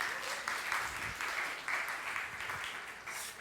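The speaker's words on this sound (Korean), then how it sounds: "자, 박수 한번 해주세요." A church congregation at a worship service claps in a sustained round of applause, a dense, steady patter of many hands filling the room, with no words spoken over it.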